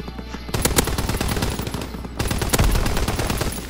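Rapid automatic gunfire from a Call of Duty: WWII match, a dense, continuous rattle of machine-gun bursts with loud, close shots layered over a busy battle background.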